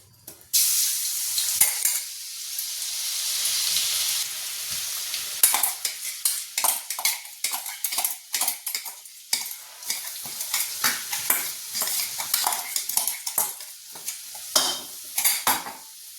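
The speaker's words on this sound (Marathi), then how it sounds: "याच्यामध्ये तेल टाकून घेतलंय। आता इकडे मी मिरची टाकून घेते।" Green chilies dropped into hot oil and stirred for a Methi Chicken recipe, with a steady sizzle and repeated scraping, clinking strokes of a utensil against the pan, loud and close with no talk.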